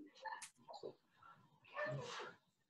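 A dog yips and whimpers in short bursts during an online capoeira class at home, with a longer, louder whine near the end and people talking around it.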